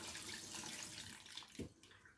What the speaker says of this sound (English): Just we'll rinse all the soap off.